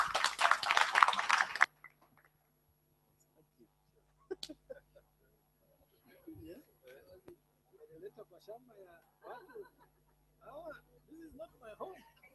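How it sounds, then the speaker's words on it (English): Applause from the audience at a Kenyan bloggers forum on regulating blogging bursts out loudly for a moment and stops, followed by quiet and then scattered talk. "give everyone a round of applause"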